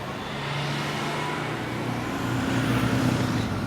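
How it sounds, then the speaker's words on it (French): Steady car traffic rumbles along a busy coastal road built in the 1970s–80s, a continuous mid-distance wash of passing vehicles with engine hum swelling slightly toward the end, no voices. "c'est une route qui est très fréquentée, qui a été construite dans les années 70-80. Et donc, il y a beaucoup de circulation"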